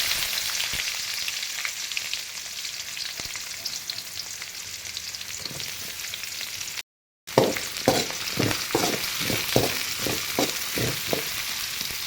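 Onions, cumin and curry leaves frying in oil give a steady close sizzle, then after a brief cut a spoon stirs the pan in about eight rhythmic scraping strokes over the crackling.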